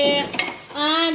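Metal pots and utensils clink and scrape in a home kitchen while vaghareli khichdi is cooked, a couple of sharp ringing knocks with a brief clatter between, close and clear with no talking.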